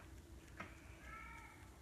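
A cat meows faintly in a quiet indoor room, one drawn-out plaintive call rising over a low background hum, distant and soft.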